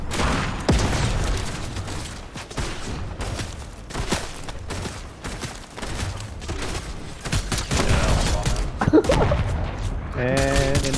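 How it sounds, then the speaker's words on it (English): Dense gunfire from a shooting video game goes on throughout in rapid, overlapping bursts, loud and close, with sharp single cracks mixed in and a few brief gaps. "Keep shooting."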